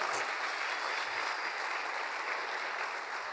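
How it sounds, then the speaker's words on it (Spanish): Church congregation applauding at a Spanish-language worship conference, a steady dense wash of many hands clapping throughout, fairly distant and even with no talk over it. "Denle un aplauso gigantesco a Dios"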